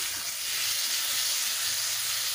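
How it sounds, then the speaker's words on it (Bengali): Potatoes and carrots fry in oil with Kashmiri chili powder, cumin, ginger and dried chili paste, giving a loud, continuous bright sizzling hiss, close and without talk. "আলু গাজরটাকে ভালোভাবে কষে নিয়েছি।"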